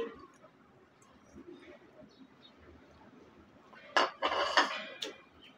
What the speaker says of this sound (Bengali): ভালো করে আমি এই সসের সাথে মিক্স করে নিচ্ছি।